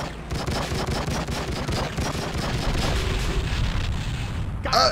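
An explosion in the crime video game True Crime: Streets of LA follows a string of gunshots, a loud rumbling blast that stays heavy, with a sharp burst of noise at the very end.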